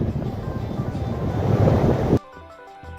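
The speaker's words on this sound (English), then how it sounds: "We got constant 25-mile-an-hour winds with 40-mile-an-hour gusts coming left or right." Strong gusty wind sweeps a Las Vegas golf course, steady around 25 mph with 40 mph gusts, roaring loudly across the microphone for about two seconds before cutting off abruptly into near quiet.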